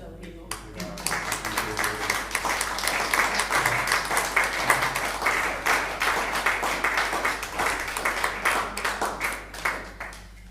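An audience at a Spanish-language lecture on the Sephardim and women philosophers of the Shoah gives steady, dense applause, many hands clapping close by for about ten seconds without a break.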